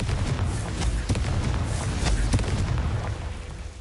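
A Confringo fire spell explodes in the video game Hogwarts Legacy on PS5, a loud rumbling boom with crackling burst layers that holds for several seconds before easing slightly.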